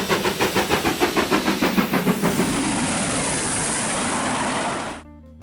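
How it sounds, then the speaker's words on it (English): A steam locomotive chuffs past in rapid rhythmic puffs that blend into a loud continuous hissing roar, then stops abruptly. "Just imagine a train going across the screen there."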